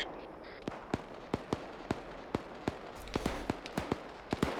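A rapid series of sharp, cracking impacts from an artillery fire mission in a military video game training exercise, about a dozen distinct hits spaced unevenly over several seconds, moderately distant and fairly faint against a low background rumble.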